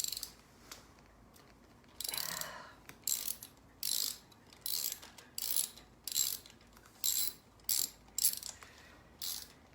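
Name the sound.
socket wrench ratcheting out a spark plug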